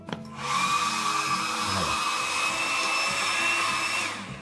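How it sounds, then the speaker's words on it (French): A hair dryer blows steadily for about four seconds, heating the NFC sticker on the back of a Sony Xperia Z phone; its whining motor tones stay loud and close, and a voice speaks briefly right at the start. "j'ai pris un sèche-cheveux"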